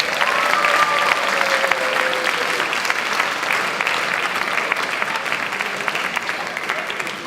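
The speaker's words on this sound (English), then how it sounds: "So I'd like for all the athletes to give their parents a round of applause" A high school awards ceremony crowd applauds the athletes' parents, loud sustained clapping filling the room evenly throughout with a faint voice briefly audible early on.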